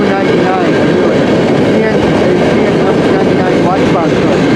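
CN M399, a westbound train, passes at close range in Port Huron, Michigan, with a loud, continuous rumble and roar that fill the whole stretch.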